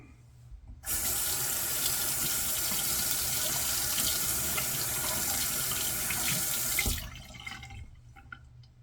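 A faucet runs into a sink to warm a razor blade, a loud, close, steady water hiss for about six seconds that cuts off cleanly. Quieter room sound is heard before and after.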